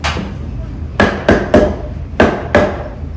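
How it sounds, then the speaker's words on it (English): Tongue and groove wood pieces are tapped together at an old saw mill: five sharp, close knocks in two quick clusters, loud and dry, with a quiet background between them. "I'll tap them a couple times."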